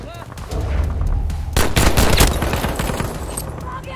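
Rapid automatic gunfire in Battlefield V on the Arras map, loud bursts that build into a dense volley midway and then trail into scattered shots, with someone speaking briefly over it.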